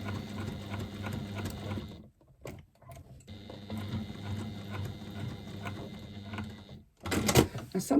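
A sewing machine stitches foam into a fabric twist pouch in two steady bursts of close, rhythmic whirring separated by a short pause, ending with a brief clunk and rustle.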